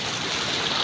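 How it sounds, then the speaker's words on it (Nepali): A fast-flowing mountain stream rushing in a steady, loud, broadband roar, close by and unbroken, with no voices. "यो खोलो बवाल छ होइन"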